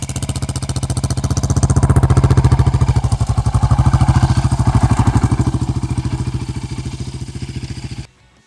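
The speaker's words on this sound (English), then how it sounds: "I went ahead and ran it over with the Raptor 700 a couple of times" A Yamaha Raptor 700 ATV engine chugging close by as it rolls over a camera housing, a loud rhythmic single-cylinder throb that swells and then cuts off abruptly at the end.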